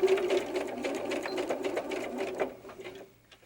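A sewing machine runs in a fast continuous burr as it stitches the inside seam of a doll diaper, then slows and stops near the end.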